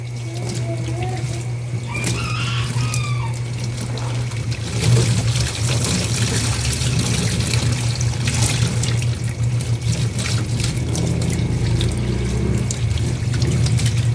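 Running tap water rinses freshly dyed hair at a sink, a steady continuous splashing flow with a low hum beneath, surging slightly louder midway, with faint voices in the background.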